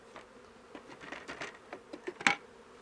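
Honeybees in a backyard beehive make a soft, close buzzing hum, joined by scattered light taps and rustles from frame handling, with a sharper knock near the end.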